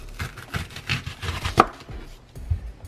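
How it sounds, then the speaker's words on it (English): A knife chopping a red onion on a board, a series of close, crisp thuds at an uneven pace with one sharper strike partway through and no talking. "So guys, I'm going to cut this red onion."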